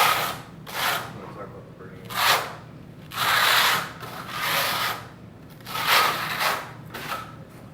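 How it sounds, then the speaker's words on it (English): Thinset mortar is combed out with a 1/8 inch V-notch trowel in repeated scraping strokes, about six rhythmic passes. A voice talks faintly in the background. "He's using the 1/8 inch V-notch trowel."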